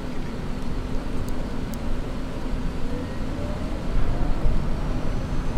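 Aircraft engine spooling up in a flight simulator game, sounds recorded from the real aircraft: a steady, loud mechanical hum with a low drone that swells slightly midway, with no talking.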